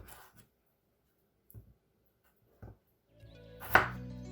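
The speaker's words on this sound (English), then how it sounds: "I actually love the sound of cutting potatoes." A knife slices through potatoes in a home kitchen: a few sparse, crisp chops spaced apart in quiet, ending with a louder, heavier cut and scrape, close and alone.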